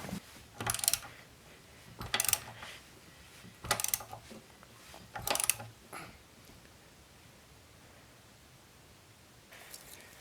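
A Honda B20 non-VTEC engine is turned by hand during a valve clearance adjustment, making four quiet bursts of mechanical ratcheting clicks with pauses between them, then a faint final click.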